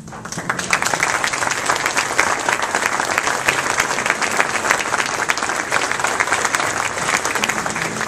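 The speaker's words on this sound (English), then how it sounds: "could y'all stand up and let's give them a round of applause" Sustained applause from an audience at a Bartow County College and Career Academy event, honoring school board members and staff as they stand; dense, steady clapping from a large crowd, loud and continuous throughout.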